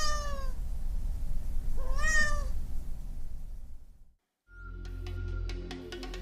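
Two clear cat meows rise and fall over steady background ambience in a Hindi audio story, followed by a brief silence and then a different musical sound bed.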